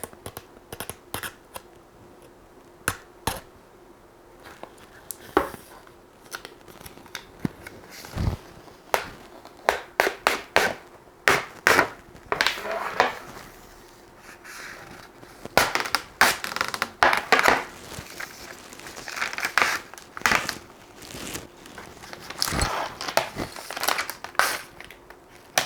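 Protective film being peeled off a FORITO blue light screen protector, close crinkling and crackling plastic in repeated sharp bursts, growing busier toward the end.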